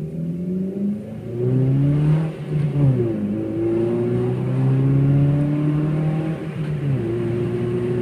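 A car fitted with a Magnaflow exhaust and a Cork Sport air intake revs up close and loud, the engine note climbing and falling in several long pulls before settling back toward idle, with no voices.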